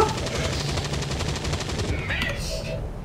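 Turret gunfire in the video game XCOM 2: War of the Chosen: a rapid, evenly spaced stream of shots that fills most of the stretch and then tails off into other game sounds, with voices likely mixed in.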